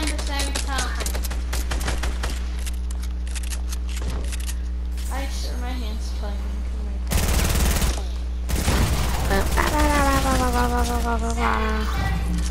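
Fortnite gunfire, a few sharp shots mixed into busy game sounds and music-like tones, with players talking excitedly over it.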